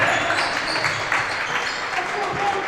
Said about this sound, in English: those claps from St. Francis are getting louder and louder, echoing through the stadium in this COVID-safe crowd